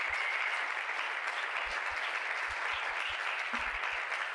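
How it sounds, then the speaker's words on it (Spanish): Continuous applause from a church congregation, even and sustained, with occasional low thumps underneath. "Fuerte aplauso al Señor."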